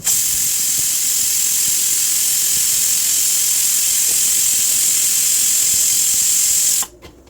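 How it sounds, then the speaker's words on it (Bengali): Loud, continuous high-pitched hiss of a pressure cooker whistle while cooking buffalo meat, holding steady for several seconds before cutting off abruptly. "এখন আমি ঢাকনা দিয়ে প্রেশার কুকারে শীষ তুলে নিব"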